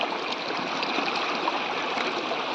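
River water rushes steadily and loudly, a dense continuous flow with no pauses and no voices.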